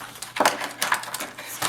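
Paper being cut for a scrapbooking project, a few short crisp snips and rustles spaced irregularly, close and fairly loud with no talk.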